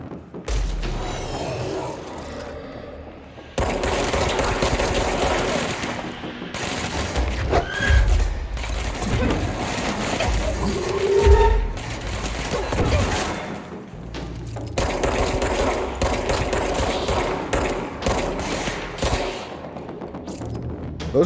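Gunfire in the video game Control, with bursts and thuds spread through a busy, loud mix of game effects and music-like layers, sometimes dense like a fusillade.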